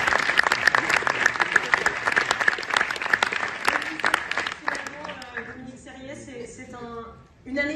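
An awards-ceremony audience claps in a dense, loud round of applause that fades out after about five seconds, with a voice speaking over the tail end.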